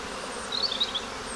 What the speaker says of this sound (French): des abeilles, bien sûr, qui font des allers-retours